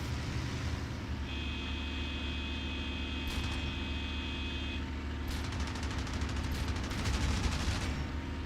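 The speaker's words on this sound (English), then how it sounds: "He seems to just be shooting off all his ammo. In an FW." An FW 190 fires its guns in IL-2 Sturmovik: Battle of Bodenplatte. Steady aircraft engine drone carries throughout, with a brief crack partway through and then a longer rattling burst of gunfire near the end, heard from a distance.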